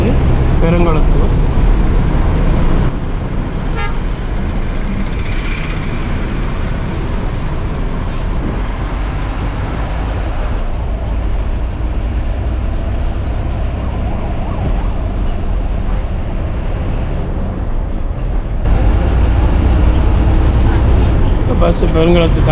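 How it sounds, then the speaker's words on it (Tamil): Interior of a moving city bus on the road near Perungalathur, between Tambaram and Kilambakkam, a continuous loud engine and road rumble with changes in intensity as it drives, and a voice speaking over it. "பஸ்ஸு பெருங்குளத்தை தாண்டி போயிட்டு இருக்கு."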